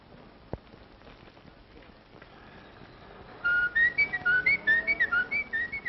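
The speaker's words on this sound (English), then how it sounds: "just blow a few notes of reveille" Someone whistles a few clear, bright notes of reveille in a quick bugle-like pattern, starting softly and rising to sharp repeated phrases over a quiet background with light patter.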